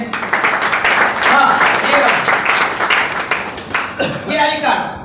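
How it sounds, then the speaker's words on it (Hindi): A crowd at an IMC business gathering breaks into loud, dense clapping that runs through the whole stretch, with someone talking over it as it continues. "एक बार जोरदार तालियां हो जाए"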